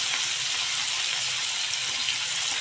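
Fish fries in oil on a dosa griddle with curry leaves, giving a close, steady bright sizzle and crackle that runs unbroken throughout without any voices.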